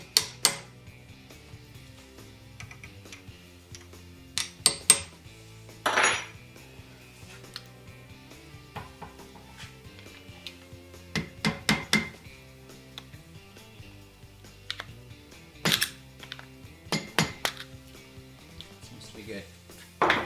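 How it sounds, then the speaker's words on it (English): A metal punch taps a circlip on a Porsche 911 CV joint during a rebuild. Sharp metallic clicks and clinks land in small clusters across the span, close and crisp, with talking audible between the taps. "giving it a tap on the circlip with the punch again"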